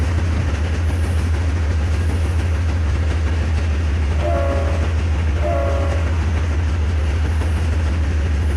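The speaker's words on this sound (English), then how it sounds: "the more I blow that horn, the more I actually kind of like it" Train horn in the Trainz (T:ANE) game, sounding two short, moderately loud blasts over a continuous loud low rumble of rolling rail cars and clattering wheels.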